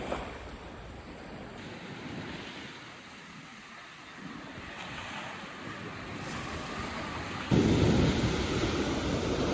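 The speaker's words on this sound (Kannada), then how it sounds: "ಇಲ್ಲಿ ಅಲೆಗಳು ತೋಲ್ ದೊಡ್ಡ" Large ocean waves break at Kakolem Beach in Goa, a continuous roaring surf with wind that swells and surges louder toward the end, heard alone.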